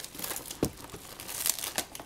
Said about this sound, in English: I always use a plastic bag